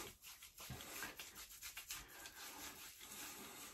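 Mentholated Chiseled Face Croygen cream being rubbed into a face and whiskers by hand: close, steady rough rubbing in repeated uneven strokes, fairly loud and with no talking.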